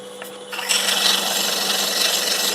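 A wooden ball turning on a lathe gives a steady, loud rasping rub against the spinning wood, building after a short quieter start and continuing without pause.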